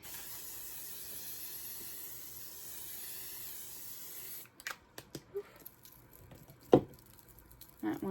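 Makeup setting spray mists out in a long, steady hiss lasting several seconds, followed by quiet clicks and taps from handling the bottle.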